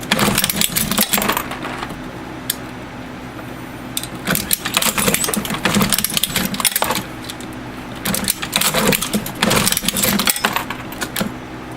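Ammunition reloading press cycling as bullets are seated, giving a steady mechanical clatter with bursts of rapid metallic clicking and jangling, close and continuous with brief lulls between runs.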